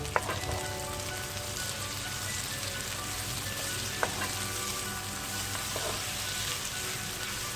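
Cabbage, tomato and other vegetables sautéing in a pan for Singaporean rice, giving a steady, soft sizzle and crackle with a few faint clinks of stirring, quiet and continuous.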